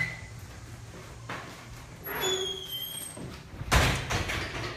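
Doors on the third floor of a college building open and close as a tour group passes through, with a squeak, a sliding rumble and a solid thud near the end amid indoor room noise.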